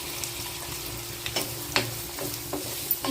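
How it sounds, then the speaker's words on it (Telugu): Onions and green chilies sauté in about 50 grams of hot oil for gongura chicken curry: a moderate, even sizzle broken by scattered scrapes and taps of a spoon stirring in the pan. "ఆయిల్ హీట్ ఎక్కింది కదండి, ఇప్పుడు ఉల్లిపాయలు, పచ్చిమిరపకాయలు వేసుకొని మగ్గబెట్టుకుందాం"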